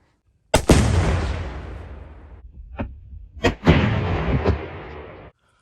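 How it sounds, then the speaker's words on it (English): Explosive charges blow up a huge tree stump outdoors: a loud, close blast with a long rumbling decay, then a couple of sharp cracks and a second heavy boom that trails off. "Okay, so the explosives didn't take the stump completely out, but it did blow some chunks out"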